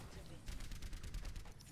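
Rapid continuous gunfire from a character in the video game Overwatch, a faint rattling burst of closely spaced shots lasting under two seconds.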